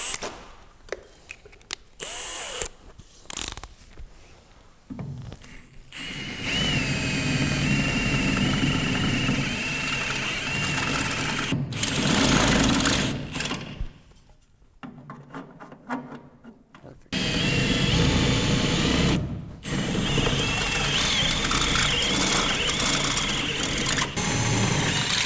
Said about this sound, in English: We're going to use a step drill bit to make these holes a lot bigger.